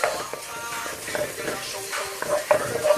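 Garlic and Scotch bonnet pepper fry in a pot for a lamb curry, giving a soft sizzle with light scraping from a spoon stirring them. A few faint clinks come from the pot.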